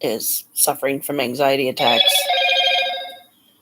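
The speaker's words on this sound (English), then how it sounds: "That's just my phone going off." A phone ringtone chimes in a sustained, fading tone after a woman's spoken words, starting partly beneath her voice and then ringing on alone.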